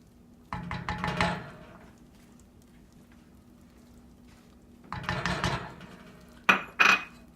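A spoon scrapes and clinks against a bowl while stirring peanut butter into a no-bake cookie mixture, in two bursts of mixing and then a couple of sharp knocks, close up.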